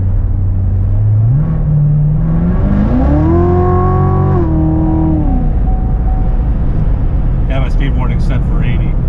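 A 2019 Chevrolet Corvette C7 Z06 engine revs hard as the car accelerates, a loud, close rising roar climbing through the gears and then dropping back to a steady rumble.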